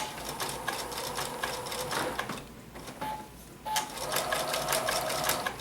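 A sewing machine stitches blanket-stitch applique along a straight edge of an autumn table topper, its rapid mechanical clatter running steadily close by, pausing briefly midway before resuming at full pace.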